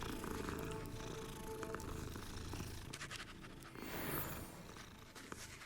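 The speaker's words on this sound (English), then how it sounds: "Hello, kitties!" Cats purr softly in Hogwarts Legacy in Hogsmeade, a faint continuous rumbling purr with light scratching and movement sounds.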